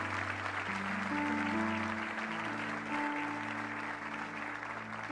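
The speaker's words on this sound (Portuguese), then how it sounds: "aplausos ao Senhor por esse trabalho no Peru" Applause from a church congregation, offered in praise for missionary work in Peru: a dense, steady wash of clapping from many hands lasting the whole stretch, with sustained keyboard or organ tones playing underneath.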